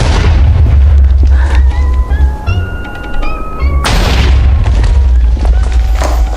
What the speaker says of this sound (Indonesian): sekarang meledak. Duar.